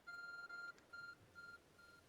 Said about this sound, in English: My phone is ringing.